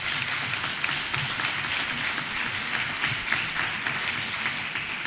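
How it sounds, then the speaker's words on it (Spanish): An audience in an auditorium at an organised event gives sustained applause, a dense, even wash of clapping that continues throughout without a break. "Yo sí quiero ofrecerle un gran aplauso de parte de todos ustedes."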